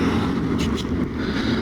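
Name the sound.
motorcycle exhaust engine sound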